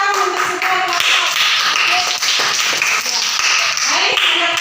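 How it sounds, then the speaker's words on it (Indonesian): Classroom of primary-school pupils clapping together for all the student groups, a brisk, uneven patter of many small hands close by, steady throughout with light voices mixed in. "Oke, kita beri tepuk tangan untuk semua kelompok"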